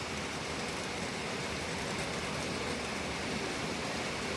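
Heavy rain falls at a landslide site near Chooralmala junction, with collapsed buildings around. It makes a steady, dense roar that holds even throughout, with no voices.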